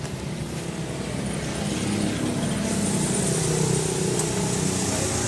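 A Honda Wave 110 motorcycle engine with a charging fault catches and settles into a steady, moderately loud running drone that swells slightly after the first two seconds, with no voices.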